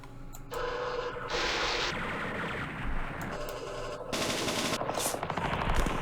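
Heavy weapons gunfire in the Vietnam War strategy game Campaign Series Vietnam, Battle of Hue: sustained rapid machine-gun bursts rattle in several loud stretches, broken by short gaps, with sharp crackling bursts toward the end and no voices.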